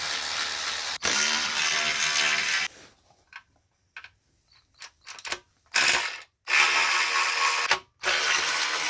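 A ratchet removing 10 mm bolts on a VW B5.5 Passat 2.8L V6 engine, with loud bursts of rapid clicking close up, broken by pauses and short taps, without speech.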